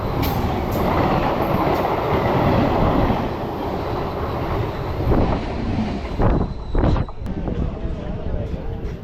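A loud, continuous rumble of a suburban local train rolling into Kattankulathur railway station near Chennai, steady and close with wind buffeting the microphone and brief higher squeals near the end.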